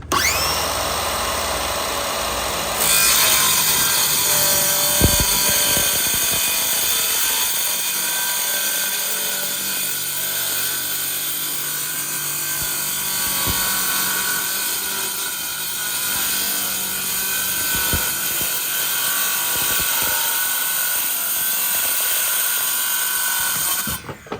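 A circular saw cuts through plywood on a beginner's job without a table saw, its steady high whine running continuously and loud from start to finish, with a brief quieter start before the blade bites.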